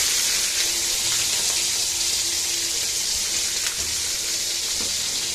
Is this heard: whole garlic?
yes